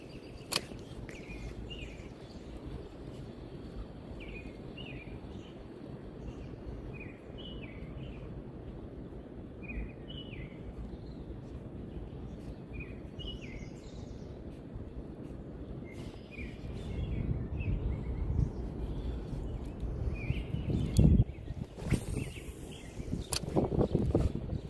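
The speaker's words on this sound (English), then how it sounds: "Nature sounds, birds chirping." Birds chirp outdoors in a natural setting during a fishing outing: short repeated high calls in irregular bursts over a steady background hush, moderately distant, with some rustling and handling noise near the end and no talk.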